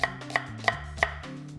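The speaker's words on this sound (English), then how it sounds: "Gonna slice an onion." A knife slicing an onion on a cutting board: four crisp, evenly spaced chops about a third of a second apart, close and clear with no talking.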